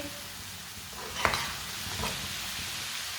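Chicken sizzles steadily in a pan as turmeric, ground cumin and ground coriander are stirred in, a constant close hiss with a couple of brief spoon scrapes partway through.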